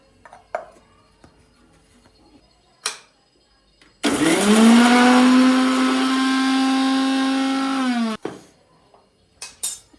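A mixer grinder grinds spice paste, whirring loudly for about four seconds, steady and close, then cuts off; a few clicks and knocks before and after.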